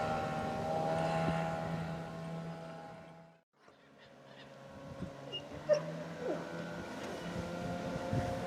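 A 14 ft aluminum boat with a 15 hp Johnson outboard runs on plane, its steady motor drone broken by a short dip before resuming with some splashing and knocks; no talking.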